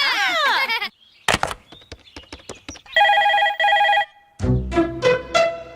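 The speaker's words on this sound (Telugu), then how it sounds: "రింగ్ అవుతుందిరా." A telephone rings in bursts, a repeated electronic tone pattern broken by gaps, among clicks, knocks and other short scene sounds, with no voices heard.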